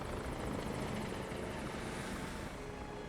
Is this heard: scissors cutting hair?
no